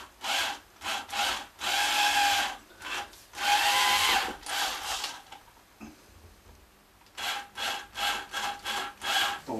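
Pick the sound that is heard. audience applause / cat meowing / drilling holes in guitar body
drilling holes in guitar body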